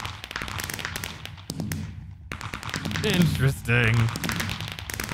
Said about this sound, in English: Those fireworks are pretty.